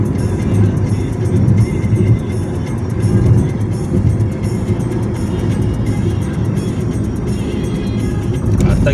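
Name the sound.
car driving on Mumbai-Pune expressway in fifth gear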